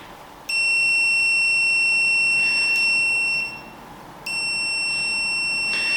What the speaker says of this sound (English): So it gives you your ohms and a continuity check.